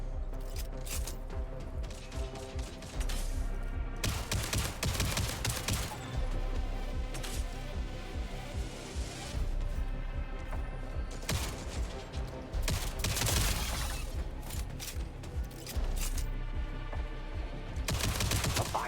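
Dense, rapid gunfire from the video game Jump Ship fills the clip with near-continuous bursts and loud crashing impacts, resembling machine-gun fire, with no talk over it.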